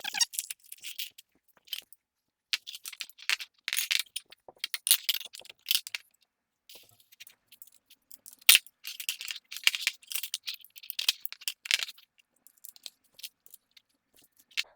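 Screws for a toddler kitchen-tower step stool are handled and turned by hand during assembly, producing scattered close metallic clicks, rattles and jingling in irregular bursts separated by quiet gaps, with no talking.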